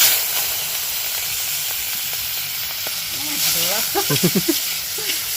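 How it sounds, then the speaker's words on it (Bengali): Cleaned, cut prawns fry in hot oil in a pan, with a loud, steady, close sizzle and hiss. A voice speaks briefly over the frying near the end. "এবার আমি চিংড়ি মাছগুলোকে ভেজে নেব"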